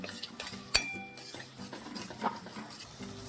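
Schezwan rice being stirred in a pan over the gas, made with Knorr Schezwan sauce, gives soft scraping and clinking of a spoon against the pan, with one sharp clink near the start and quiet shuffling after, no talk.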